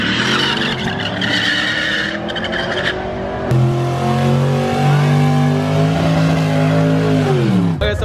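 A cammed square body Chevrolet C10 and a cammed Chevy race car rev hard with loud, continuous engine roar and tire skidding, pitch climbing steadily before dropping off, close and sustained.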